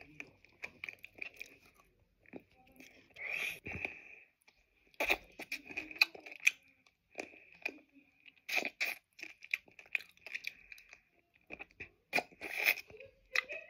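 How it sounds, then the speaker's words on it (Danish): Bosnian candy with Smarties inside is bitten and chewed up close, giving repeated sharp crunches in irregular bursts with quiet gaps between them. "Det knaser virkelig bare."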